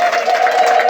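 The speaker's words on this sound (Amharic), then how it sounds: "ለዚህ ገናናው ጌታ እልልታና ጭብጨባ" A church congregation ululates and claps together in a dense, loud burst, with a steady high trilling tone riding over continuous crowd noise.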